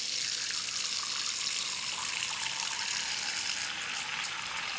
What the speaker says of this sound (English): Fill it with some water.